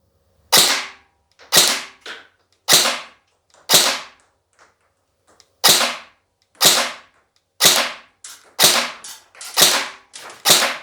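Specna Arms SA-C10/E10 airsoft rifle fires about a dozen crisp, snappy shots outdoors, spaced irregularly roughly a second apart, each a short sharp crack close to the listener with quiet between.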